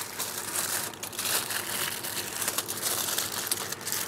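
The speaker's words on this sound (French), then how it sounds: "On va lui rajouter une couche d'aluminium." Aluminium foil crinkles and crumples close up while being wrapped around a stuffed Christmas guinea fowl, a continuous crackling rustle with irregular louder crunches and no talking.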